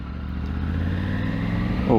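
A Triumph Tiger 900 Rally Pro motorcycle on the move, with its engine humming steadily under a voice and rising sharply in revs at the end around a gear change.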